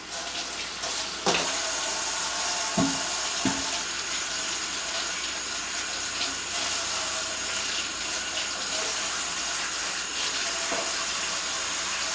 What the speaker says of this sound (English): Let me wash my celery sticks off.